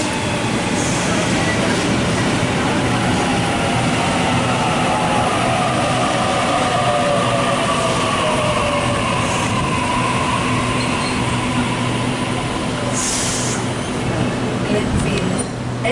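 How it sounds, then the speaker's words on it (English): A Sydney Waratah train pulls into a platform at Parramatta station with a loud, steady rumble and hiss of wheels and motors, heard close by throughout. "We have an Epping via Macquarie Uni service arriving on platform number 1."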